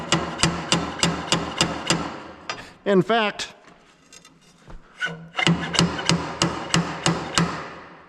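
Angle iron is hammered against the inner race to drive a bearing onto a shaft on a Gleaner R52 combine. Steady, evenly spaced ringing blows pause briefly while someone speaks, then resume.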